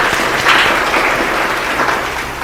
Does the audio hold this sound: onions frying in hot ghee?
no